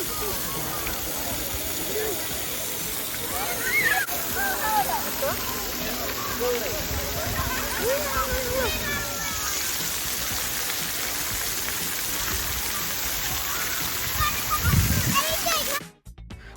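Playful splashing in the water at a Michigan beach gives a continuous wash of sloshing and splattering, with faint voices in the background.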